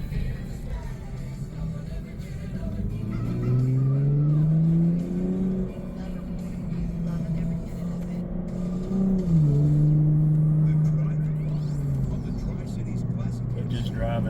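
A Lexus IS350 F-Sport with a Borla Type-S axle-back muffler is driven normally in Sport Plus mode; its engine drones steadily from inside the cabin, with pitch rising and falling as revs change, under a talking voice.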